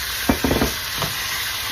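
Soy sauce, pepper and lemon juice marinated chicken browns in a pan with garlic, onion and ginger, a steady close sizzle with a few brief stirring scrapes.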